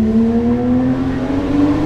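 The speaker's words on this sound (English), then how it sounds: "the tone that the titanium exhaust is putting out" A Porsche GT3 engine with a titanium exhaust holds a loud, steady, close rev, its rich droning tone slowly sliding in pitch with no speech over it.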